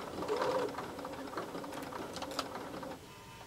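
Sewing machine stitching a coiled rope bowl, a soft steady whirring run of rapid stitches, fairly faint and close, stopping near the end.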